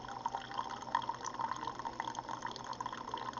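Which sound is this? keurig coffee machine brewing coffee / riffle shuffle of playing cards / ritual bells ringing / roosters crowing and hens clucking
keurig coffee machine brewing coffee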